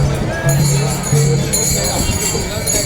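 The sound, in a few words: crowd at Pandharpur temple on Ashadhi Ekadashi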